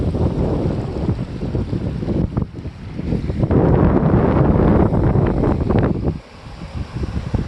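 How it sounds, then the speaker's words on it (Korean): Strong wind gusts buffet the microphone outdoors on a hillside above a reservoir, a loud continuous roaring rumble that swells and eases, with a brief lull near the end and no talk. "지금 바람도 많이 불고 이런 상태인데요"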